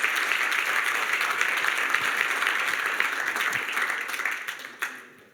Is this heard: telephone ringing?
no